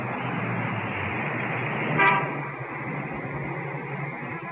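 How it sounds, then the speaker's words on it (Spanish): Street traffic captured on a small battery-powered recorder: a continuous dull rumble of passing vehicles with one short car horn toot midway, a little muffled and lo-fi. "Me armé de un pequeño grabador a pilas y tomé referencias de los sonidos de la calle"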